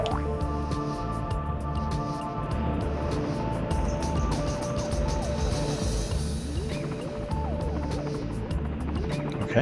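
A droning biplane engine in a video game, a continuous buzzing hum with wavering pitch that holds steady and fairly loud throughout, with no talking.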